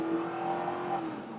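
A Mercury Grand Marquis 4.6 liter V8 held at full throttle gives a steady, droning engine roar with a sustained low tone, heard from inside the car.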